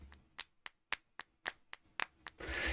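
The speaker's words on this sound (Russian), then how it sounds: "только два самых громких хлопка подвергаются компрессии" Eight or nine sharp hand claps from a sample spaced at uneven intervals, the last ones louder and more compressed, ending in a dense burst of clapping; no voices.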